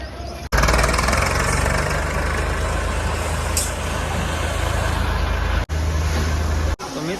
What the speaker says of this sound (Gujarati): તો મિત્રો હવે આપણું ટ્રેક્ટર લાગી ગયું છે ઠેકાણે અને ચાલુ થઈ ગયું